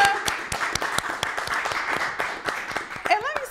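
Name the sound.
applause for podcast guests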